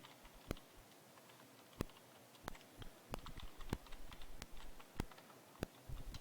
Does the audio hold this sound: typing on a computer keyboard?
yes